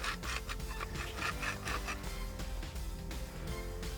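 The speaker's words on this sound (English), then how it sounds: "to see you brought your small pepper grinder" A small hand pepper grinder grinds pepper outdoors, giving a steady dry rasping crunch with rhythmic twisting pulses throughout, close and fairly loud.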